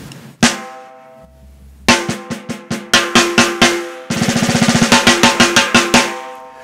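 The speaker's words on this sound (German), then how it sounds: "ich spiele euch jetzt erstmal einen kurzen Sound vor, wie die Snare Drum jetzt offen klingt." Snare drum with very open tuning struck alone in a studio: single hits, then a run of evenly spaced strokes and a faster roll-like burst, each ringing brightly with a loud, close attack.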